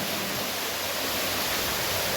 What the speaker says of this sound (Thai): ที่ตรงนี้มีน้ำตก